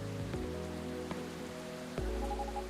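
Steady rain falling in the cozy café game Coffee Talk 2, a soft continuous patter with a few light taps and a gentle musical tone layered over it, alone without talk.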